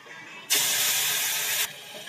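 Milk boiled with bay leaves is poured into a hot pan of semolina fried in ghee with cashews and pistachios for sooji halwa, setting off a sudden loud sizzling hiss that lasts about a second, then cuts off.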